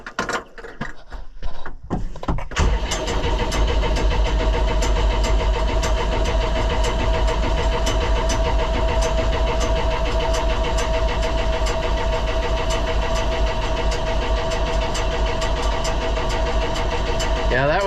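Minneapolis Moline Jetstar 3 tractor with a fuel leak and a float problem: a few cranking bursts, then the engine catches at about two and a half seconds and settles into a loud, steady, knocking idle.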